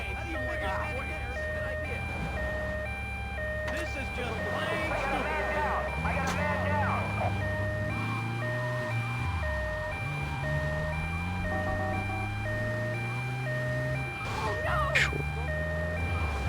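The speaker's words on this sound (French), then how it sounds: "Oh, il y a un camion contresens" A truck in the GTA Vice City video game comes the wrong way through traffic. Engine drones and pitch-sweeping tones mix with steady game sound, with a person talking over it throughout.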